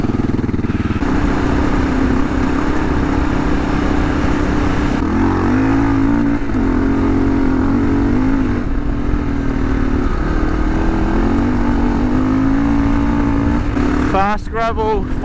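A KLR650 adventure motorcycle with YSS rear suspension and AX41 tyres runs fast along a gravel fire road, its engine droning loud and steady with gear changes and rising revs, plus wind and rattling over the surface.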